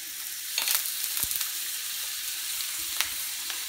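Steak cooks in a hot pan with butter added partway through, giving a soft, steady background sizzle with a few brief spatters and light clinks, fairly quiet throughout.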